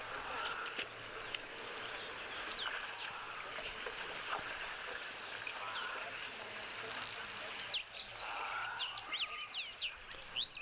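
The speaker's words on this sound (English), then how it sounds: "Do let me know which birds you think it is that are making so much noise" Wild birds call repeatedly in an outdoor natural setting, a mix of chirps and sharp whistled notes scattered over a constant high insect drone, moderately distant and clustered toward the end.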